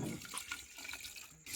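Water poured into a pot of Maggi noodles cooking on a wood-fired clay stove at a late-night outdoor party, a brief close splashing pour over background noise.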